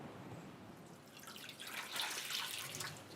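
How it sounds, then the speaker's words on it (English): Fresh spring water is poured into a cooking vessel for fish in a historic house kitchen, a faint splashing trickle that grows louder and busier toward the end, with no talk. "Now to cook the fish. Add fresh spring water."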